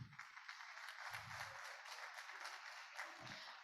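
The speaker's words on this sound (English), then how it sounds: "Please, can we applaud him?" Audience at a procurement summit applauding the Honorable Commissioner, Dr. Rabiu Olowo, with steady, fairly quiet clapping lasting a few seconds, interrupted by brief low thumps of handling or movement.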